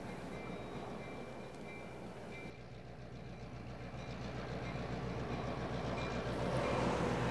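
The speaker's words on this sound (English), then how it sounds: "feeling the chug of the wheels on the track beneath us and the power of this rolling machine of" Train wheels on the track aboard the Nevada Northern Railway, a steady low rumbling roll with faint rhythmic clatter that builds slightly louder toward the end, heard from inside the moving car.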